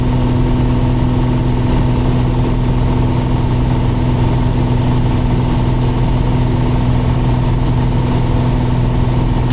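Steady, loud drone of a Piper Cherokee Six's piston engine and propeller held at 2,400 RPM, heard from inside the cabin as a constant low hum with no talk.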